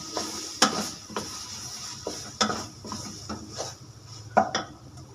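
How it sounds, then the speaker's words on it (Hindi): A spoon stirs coriander powder through minced meat and potatoes frying in a pan, giving a few distinct clanks against the metal spaced a second or two apart over a steady soft sizzle, close up and without voices. "धनिया पाउडर डाल के इसको थोड़ा सा मिक्स करूँगा इस तरीके से"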